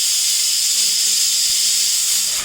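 A pressure cooker on a home stove releases steam in a steady, loud, high hiss that continues for the whole moment without any break.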